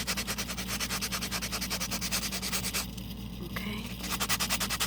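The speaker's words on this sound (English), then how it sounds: "you sand this down, okay? You sand it down to get those big ridges off." Sanding a craft heart made from recycled material to knock down big ridges, heard as steady rhythmic back-and-forth scraping strokes close up, with a brief pause in the middle before the strokes resume.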